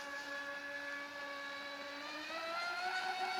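An RC prop-style ski boat on a lake makes a high, steady electric whine at full throttle, its tone holding level and then rising slightly near the end, heard alone and fairly close.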